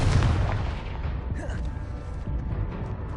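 A Confringo fire spell explodes in Hogwarts Legacy, opening with a heavy booming blast that rumbles away over a few seconds.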